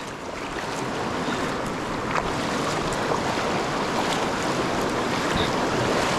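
Loud, steady roar of churning whitewater on the Upper South Branch river in New Hampshire, heard from a kayak, with continuous broadband rush and wind buffeting the microphone, no voices.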